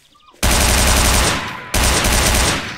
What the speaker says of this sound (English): Next one is the G36.